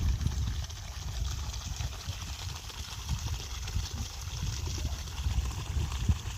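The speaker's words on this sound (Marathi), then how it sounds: "बघा कसं शेताला पाणी सोडलं आहे" Borewell water runs steadily into a farm field in a village, a soft continuous trickle and flow with a faint low engine-like hum underneath, fairly distant and even, no talking.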